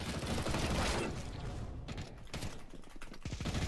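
A Negev machine gun firing in Counter-Strike 2, fairly quiet, with a dense rattling burst that trails off and returns in short bursts, no talking.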